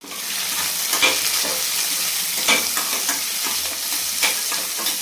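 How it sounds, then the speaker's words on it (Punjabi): Chopped vegetables sizzling in a hot pan as they are stirred, a continuous frying hiss broken by regular scraping and clattering stir strokes, close and fairly loud, with no voices. "ਆਪਣੀਆਂ ਸਬਜ਼ੀਆਂ ਜਿਹੜੀਆਂ ਆਪਾਂ ਕੱਟੀਆਂ ਵੱਡੀਆਂ ਪਈਆਂ ਸੀਗੀਆਂ ਤੇ ਬਸ ਇਹਨਾਂ ਨੂੰ ਪਾ ਕੇ ਹਿਲਾ ਕੇ ਅੱਧ ਕੱਚੀਆਂ ਜੀਆਂ ਹੋਣ ਤੱਕ ਪਕਾਵਾਂਗੇ"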